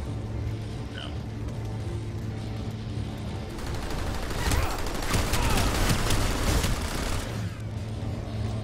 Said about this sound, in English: Who's shooting at me with the turret?